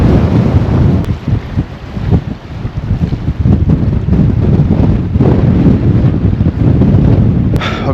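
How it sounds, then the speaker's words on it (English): Strong wind buffeting a microphone beside the River Trent, a loud continuous roar with gusting surges and rumble and no speech. "windy."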